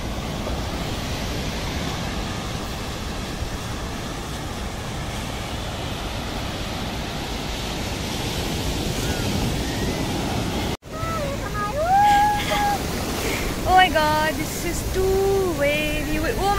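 Ocean waves wash onto a beach in Goa in the early morning, a continuous loud surf roar. After a brief break, faint tonal sounds such as distant voices or calls appear over the surf.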